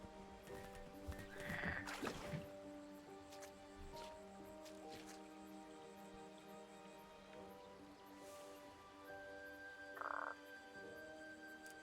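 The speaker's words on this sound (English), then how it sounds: "Hello, frogs." Frogs croak in the game King's Quest, with repeated croaks over a steady bed of night ambience and tonal background music, fairly quiet throughout.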